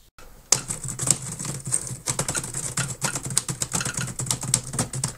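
Rapid, irregular keystrokes clatter on a computer keyboard at close range, a continuous patter of clicks with no voices.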